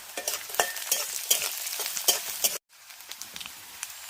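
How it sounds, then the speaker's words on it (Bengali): Almonds and black pepper roast in a pan for a spicy fish and potato curry, with rapid spoon scrapes and clicks over a light sizzle that drops out briefly midway, then resumes more softly. "এবার আমি কাঠবাদাম আর এই কালো মরিচ আর সব দিয়ে দেব দিয়ে নেড়ে ছেড়ে নেব"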